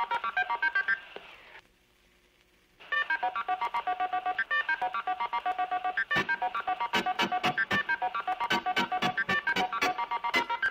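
Futuristic radio wrist phone dialing a private number: rapid sequences of electronic tone beeps, a brief pause, then dense repeated dial tones with sharp clicks, close and clear with no speech.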